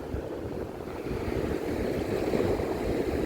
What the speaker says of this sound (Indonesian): Bisa lihat ombak di depan kita loh.